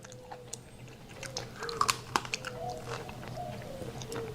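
Close, quiet crunching of freeze-dried fruit, with a few crisp bites and then softer chewing over a low background hum.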